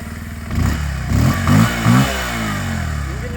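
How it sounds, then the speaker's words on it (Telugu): A Bajaj Pulsar 150 double-disc motorcycle engine starts and gives a few short, loud revs up close before settling into a steady idle. "ఒకసారి స్టార్ట్ చేస్తాను. ఇంజిన్ సౌండ్ కూడా చెక్ చేసుకోవచ్చు."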